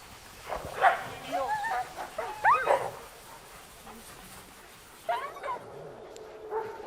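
Czechoslovakian wolfdogs in a large outdoor enclosure give several short yips, whimpers and barks in scattered bursts, moderately close, with a pause between groups.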